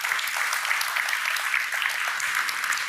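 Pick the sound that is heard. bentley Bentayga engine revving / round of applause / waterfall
round of applause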